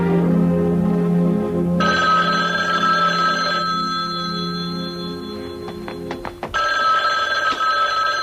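A telephone rings in a 1978 Las Vegas detective drama, a loud electronic bell-like trill repeating in bursts, with a brief clatter as it is picked up and then ringing again.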